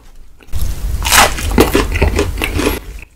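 Someone bites and chews a crunchy Goobne pepper fried chicken wing close to the mic, producing dense, crackling crunches for over two seconds after a short quiet lead-in.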